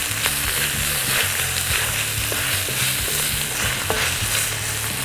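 Peppers sizzle loudly in a hot wok while being tossed and stirred, a dense, constant frying hiss with scattered clacks from the utensil and a low steady hum underneath; no talking.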